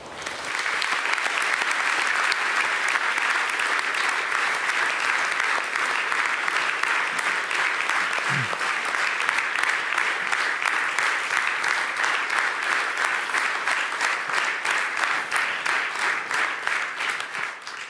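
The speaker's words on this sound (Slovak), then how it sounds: "Naozaj zaslúžený potlesk pre Mariána Hosu." Prolonged, dense applause from a large audience at a hockey player of the year awards ceremony, steady and loud for the whole stretch with no pause.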